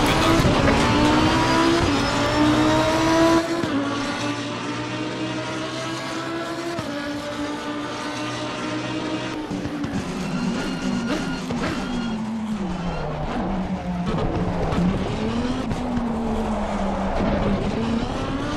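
Lamborghini Huracan Super Trofeo race car engine in the game Assetto Corsa Competizione, a loud, steady, close-up drone whose pitch climbs and falls with shifts through the gears, running continuously without any voices.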